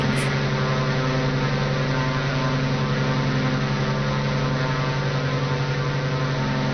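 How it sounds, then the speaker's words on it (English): Twin radial engines of a Grumman Goose seaplane in a flight simulator, throttled back to low cruise manifold pressure during a shallow dive, giving a steady, continuous droning hum with a constant level throughout. "So let's see what happens if we cut the engine back."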